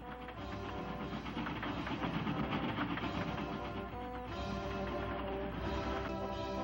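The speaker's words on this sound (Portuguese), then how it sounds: "Gente, aí vem o trem." A train arrives in a cartoon with a steady, dense rumble and hiss of rolling wheels and engine, moderately loud and continuous throughout, with no speech.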